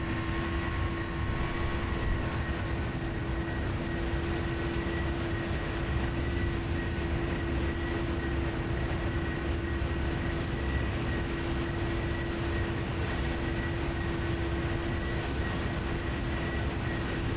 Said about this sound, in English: You can see the aircraft is climbing like a crazy.